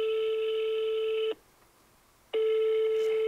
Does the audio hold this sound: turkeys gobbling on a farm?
no